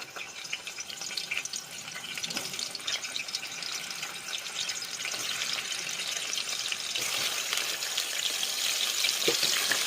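Potatoes tossed into a pan of browned onions for a vegetable biryani sizzle and hiss continuously, with the frying growing slightly louder and denser toward the end.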